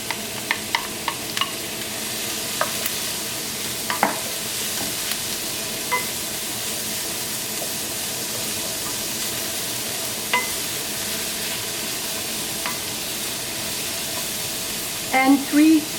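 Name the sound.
chopped onions sizzling in olive oil in a hot pan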